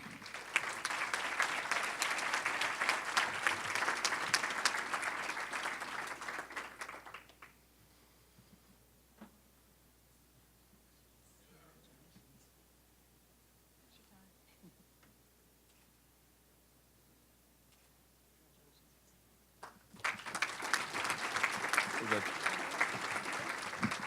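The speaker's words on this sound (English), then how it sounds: "How about another round of applause for Rob, Karen, and Lindsay, our Rising Stars" Audience at an educator awards ceremony bursts into applause, a loud, dense wash of clapping that stops abruptly, leaves a long quiet stretch with faint stray sounds, then erupts again into full clapping near the end.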